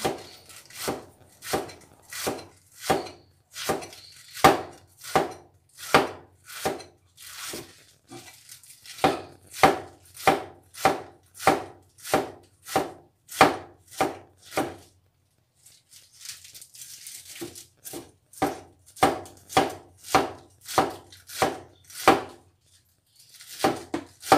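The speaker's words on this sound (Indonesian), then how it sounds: "saya akan melanjutkan memotong gubis ini sampai selesai ya" Cabbage chopped into small pieces with a knife on a cutting board: a steady run of crisp, evenly spaced, close chops, a short pause partway through, then the rhythmic cutting resumes.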